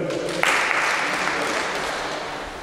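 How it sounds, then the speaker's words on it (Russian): Steady applause from a crowd at a Moscow Region championship as competitors are announced, swelling slightly after a brief start and continuing evenly throughout. "Лёдов Евгений, аплодисменты."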